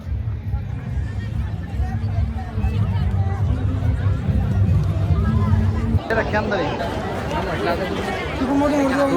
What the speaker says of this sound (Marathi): पुलावरची गर्दी